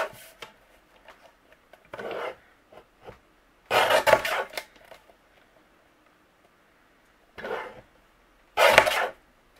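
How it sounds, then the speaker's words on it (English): Paper craft card is trimmed in short bursts of cutting and rubbing, several separate scraping passes close by with quiet pauses between them. "So let's trim this down."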